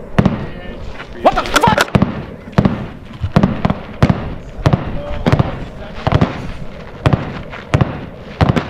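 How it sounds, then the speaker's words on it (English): Sharp rimfire cracks from a CZ 457 rifle at a shooting match, many loud close reports spaced about half a second to a second apart, with talk in between. "Stupid cold bore shot."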